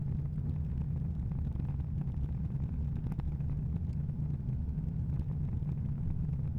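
Steady low rumble of tyres rolling over a deliberately rough stretch of road, picked up continuously by a small action camera mounted on a moving vehicle, dense and unbroken throughout with no voices.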